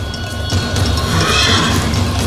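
A wild, unruly horse whinnies loudly and close, a sustained neigh over a dense, rumbling background with no talk.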